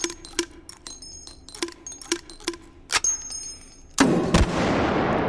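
A distant grenade explosion in the VR shooter H3VR lands as a sudden broadband boom near the end, after a run of sharp metallic clinks and pops, and a rumbling tail follows it.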